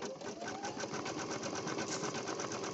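A Baby Lock Flare embroidery machine stitches fabric with a steady, rapid mechanical whir and rhythmic needle clatter, close and continuous throughout.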